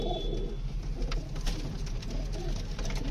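Pigeons shut into their coop after being paired coo in a low, steady rumble with soft overlapping calls at close range, and nobody speaks.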